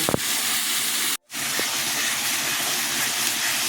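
Onions with ginger-garlic paste sauté in hot oil for a prawn curry, a loud, continuous sizzle held close with one very brief break.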